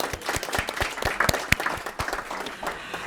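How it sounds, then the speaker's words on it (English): An audience at a committee meeting breaks into applause, with dense clapping and a few sharper individual claps standing out close by, continuing for several seconds. "let's just give everybody a round of applause to show our appreciation"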